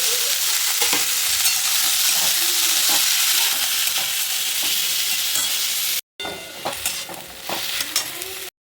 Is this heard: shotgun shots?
no